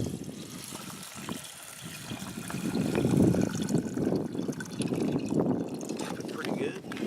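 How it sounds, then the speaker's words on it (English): Water is poured into a camp cooking pot for buckwheat, a soft trickling and splashing that swells midway, with faint outdoor background. "Add some water in here."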